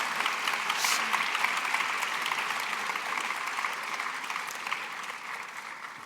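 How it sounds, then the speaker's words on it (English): Graduates and guests clapping at a commencement ceremony, a steady sustained round of applause from a crowd that holds evenly throughout and tapers slightly at the end. "You can give yourself a round of applause."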